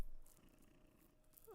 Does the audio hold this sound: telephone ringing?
no